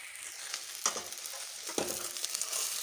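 Sliced okra fries in oil in a pan over a medium flame, a steady crackling sizzle broken by a couple of distinct scraping stirs from a spatula, close and moderately loud, with no talking.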